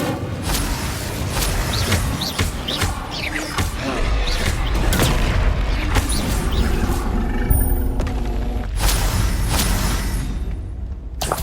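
An Incendio fire spell is cast in the Hogwarts Legacy combat, a loud roaring rush of flame layered with crashes, whooshes and booming impacts, dense and continuous.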